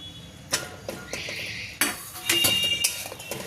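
Stuffed potatoes are stirred in a cooking pot, a spoon clinking and scraping against the metal in irregular, close strokes.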